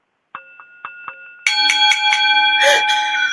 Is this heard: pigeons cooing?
no